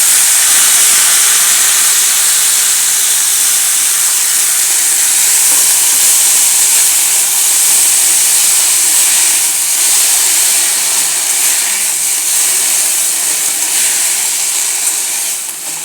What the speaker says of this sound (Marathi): आता आपण ही बारीक जी चिरून भाजी ठेवली आहे ती भाजी घालूया